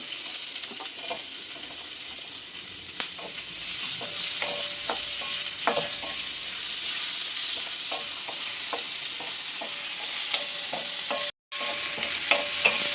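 Shallots, garlic and tomato sauté in a pan for a dried-fish curry, a constant bright sizzle broken by frequent small ladle taps and scrapes, close and steady with a brief dropout near the end and no talk.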